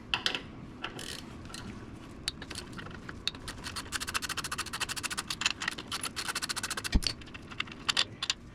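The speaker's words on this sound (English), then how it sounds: "now we're going to undo the front axle nut pinch bolts" A 6 mm Allen head socket on a ratchet undoing the two front axle pinch bolts of a motorcycle, making a close, rapid run of ratcheting clicks and scraping metal with no talking.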